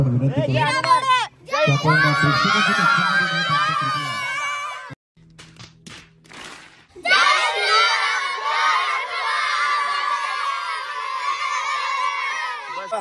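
A crowd at a Hanuman Jayanti palkhi procession cheers loudly while children shout and scream. The noisy, continuous roar breaks briefly, then surges back at full strength.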